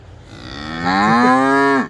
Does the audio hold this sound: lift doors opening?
no